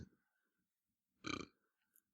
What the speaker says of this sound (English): Can you stop burping on the podcast?